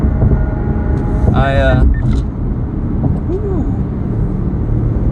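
Cars move through busy traffic with a steady close road rumble, one passing vehicle's tonal whine rising briefly, and a voice speaking over the noise.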